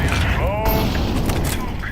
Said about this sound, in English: Throwing flashbang. Grenade. Fire in the hole.